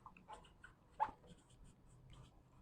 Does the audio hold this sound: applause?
no